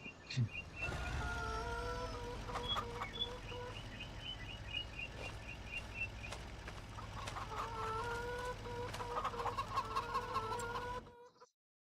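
Chickens in Farming Simulator cluck and chatter in repeated bursts over a low background rumble, with the sound cutting off abruptly at the end.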